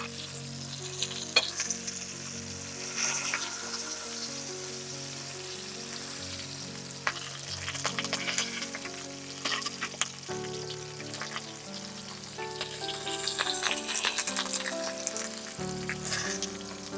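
Food frying in a pan for Fërgesë, the traditional Tirana dish, a steady close sizzle with occasional stirring clicks under soft background music, no talk.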